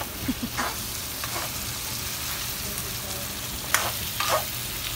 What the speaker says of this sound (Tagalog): sige, haluin ko pa ng haluin hanggang sa kulang na lang ay madurog siya